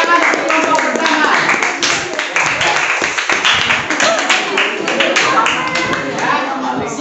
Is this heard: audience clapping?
yes